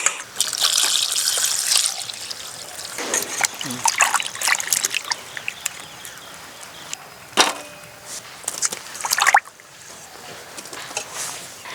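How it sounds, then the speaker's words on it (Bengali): Potatoes are rinsed and rubbed by hand in a bowl, the water changed several times, with splashing, dribbling and sloshing bursts and a few sharp knocks, close by under some talk. "এবার এটাকে ভালো করে 2 থেকে 3 বার জল পাল্টিয়ে পাল্টিয়ে ধুয়ে নিতে হবে।"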